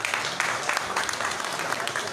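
Applause at a lawyers' poetry conference at a High Court bar: a crowd claps steadily and densely, with a voice faintly mixed in.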